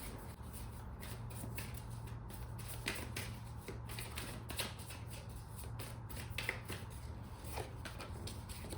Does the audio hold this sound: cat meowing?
no